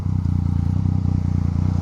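Yamaha MT-09 motorcycle with an Akrapovic exhaust idling or running steadily, a loud close low throbbing rumble with a rapid regular pulse throughout.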